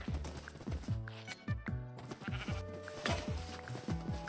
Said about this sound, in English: I'm just gonna have to go out into the wild and shear some sheep really quickly